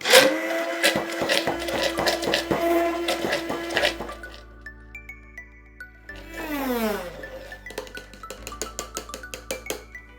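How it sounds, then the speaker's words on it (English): A blender whirs loudly while mixing vegan mayonnaise ingredients, its motor pitch shifting and dropping as the thick mixture churns, with rattling and clinking from the jar throughout. "Then all you have to do is blend it all together."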